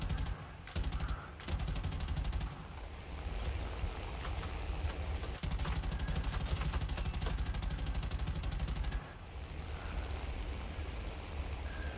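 Aircraft machine guns in War Thunder fire in long sustained bursts with dense rapid rattling, loud and close over a steady engine drone, with brief pauses and short gaps between volleys.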